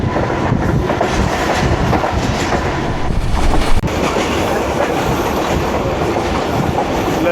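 A passenger train runs on rails in heavy early-morning rain between Lala Musa and Lahore, with a loud continuous rumble and rattle of wheels and carriages heard up close from on board, and no talk.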